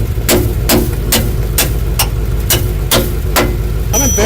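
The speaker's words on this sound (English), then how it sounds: "Sounds like it has an exhaust leak now." A Camaro engine idles with an exhaust leak, loud and close, giving a steady low rumble broken by sharp regular ticking puffs about twice a second.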